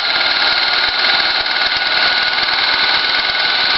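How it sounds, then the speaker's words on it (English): A 1950s Apollo Synchro 8mm projector motor runs at middle speed, a dense, steady whirring buzz with fine rapid ticking, loud and close and unbroken throughout. "I'm just going to turn the motor on"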